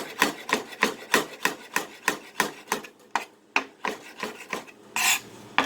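Rhythmic rasping strokes, about a dozen in steady succession, as citrus peel is grated over a hard cutting board, close and clear with no voices.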